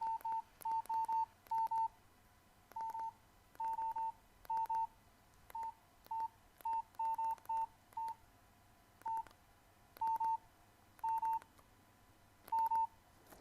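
Short electronic keypad beeps from a Nokia C2-01 mobile phone while a text message is typed, about twenty quick tones in irregular bursts, some single and some doubled, close and clear over a quiet background with no talking.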